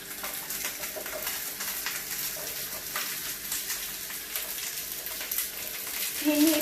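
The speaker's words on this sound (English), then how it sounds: "it's making sure your oil's nice and hot, so you're just giving it a quick saute" Green peppers saute in hot oil for sweet and sour chicken, giving a continuous close sizzle and crackle with occasional stirring scrapes, steady and moderately loud throughout.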